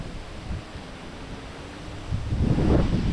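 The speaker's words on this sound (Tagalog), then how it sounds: "Hangin, oh, yung hangin." Wind blowing outdoors, a steady hiss of gusts and rustle that swells louder toward the end, with no talking.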